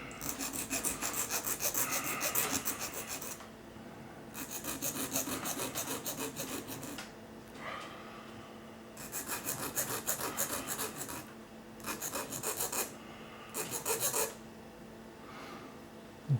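A cheap ruling pen's metal blade being honed on a stone, repeated rasping strokes in bursts of a few seconds separated by short pauses, close and fairly quiet.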